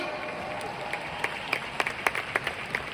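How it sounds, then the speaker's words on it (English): An audience at a talk gives itself a round of applause, a fairly soft, diffuse clapping that swells briefly with a few distinct louder claps near the middle. "Can we all give ourselves a round of applause today?"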